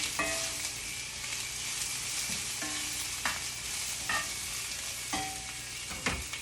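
Okra, tomatoes, onions, garlic and mushrooms frying in a pan, a continuous low sizzle punctuated by a regular series of clinks and scrapes from a utensil stirring against the pan, with no speech.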